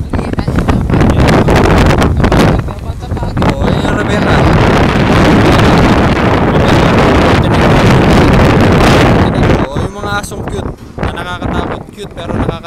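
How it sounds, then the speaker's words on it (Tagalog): Strong wind buffets the microphone with loud, continuous roaring gusts at a ship launching in Dalahican, with a few brief breaks near the end. "Lakas ang hangin mga kapatid."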